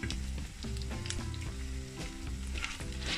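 A flipped cheese dumpling patty sizzles in a pan, a continuous soft frying hiss running beneath prominent background music with a stepping melody and no speech.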